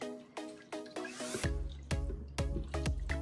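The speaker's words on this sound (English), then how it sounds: "Now I'm gonna add water to this." Water is added little by little to lentils in an Instant Pot, heard as a series of close, distinct splashes and drips arriving in uneven bursts.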